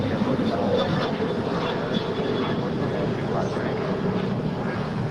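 An airliner taking off from runway 25 right at LAX, a steady loud broadband engine roar that holds level throughout, with a voice faintly mixed in.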